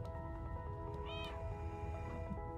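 Black cat in the Stray video game meows once, a clear rising-and-falling cry standing out against a steady tonal game ambience.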